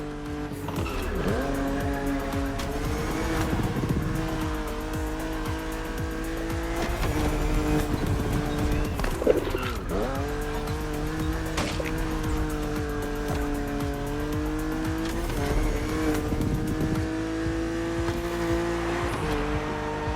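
A BMW races in The Crew Motorfest on PS5, its engine climbing and dropping through gear changes as it pushes along open roads, with tire squeal and skidding breaking in throughout a loud, continuous run.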